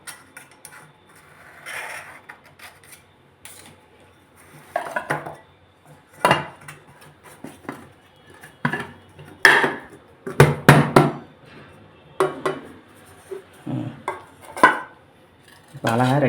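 Metal utensils scrape and tap against a cake pan in scattered, close clinks and knocks as the edges of a millet vanilla cake are loosened and the cake is moved onto a plate.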